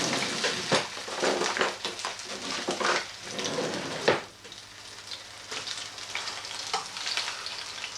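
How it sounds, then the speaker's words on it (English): Beer-battered fish fries in hot oil, a steady close hiss and crackle with occasional louder pops, no voices. "And now we fry it in its own batter."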